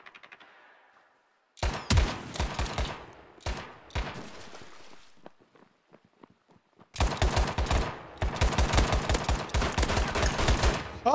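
Rapid automatic gunfire in the World War II shooter United 1944, loud close bursts with a short lull of sparse shots, then a long sustained volley.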